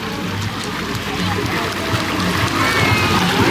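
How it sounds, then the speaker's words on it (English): Child splashing water in a swimming pool, a steady wash of splashes and sloshing close by, with chatter and voices mixed in throughout. "Let me see you splash, splash, splash!"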